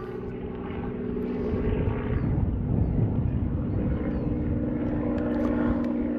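A small camera drone hovers and flies near Broadmoor Secure Hospital, its propellers giving a steady, close buzzing hum with layered tonal whine that holds continuously throughout, swelling slightly louder after the first second, with no voices.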